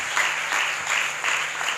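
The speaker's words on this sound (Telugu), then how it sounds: "గట్టిగా ఒకసారి చప్పట్లు కొట్టి." Applause during a church novena service for the feast of Mary Help of Christians, a steady wash of many hands clapping in rolling swells rather than a single clap.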